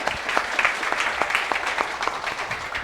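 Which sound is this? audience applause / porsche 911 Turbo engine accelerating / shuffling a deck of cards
audience applause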